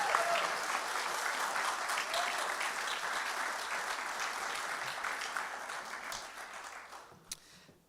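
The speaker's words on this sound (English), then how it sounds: "Please join me in a round of applause for the distinguished military graduates." Audience applause for distinguished military graduates at an ROTC commissioning ceremony, sustained dense clapping from a large crowd filling the hall, slowly tapering toward the end.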